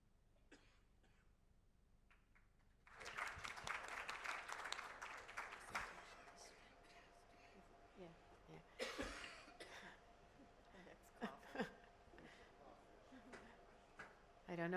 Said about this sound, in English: Coughing, coughing, coughing.